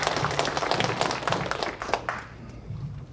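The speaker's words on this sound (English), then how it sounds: "give him a round of applause" Applause from an audience at a ceremony honoring Lao Secret War veterans, given for a veteran: a steady patter of clapping hands that thins out and fades near the end, with faint low voices beneath.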